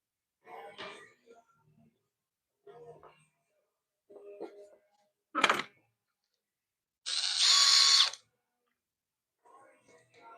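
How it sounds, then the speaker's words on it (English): A power drill bores screw and dowel holes during a building project, with short separate bursts of whirring and one louder high-pitched run, set apart by quiet gaps and a few nearby clunks. "drill some holes for our screws and our dowels"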